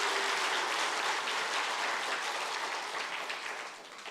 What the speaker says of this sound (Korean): 우리 다시 한번 박수로 격려하도록 하겠습니다.